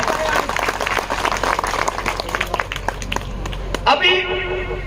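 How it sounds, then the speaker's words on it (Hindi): A crowd at a public speech applauds, with dense, loud clapping filling the whole span and a voice speaking over it near the end. "तालियां बजाएं, बहुत बढ़िया।"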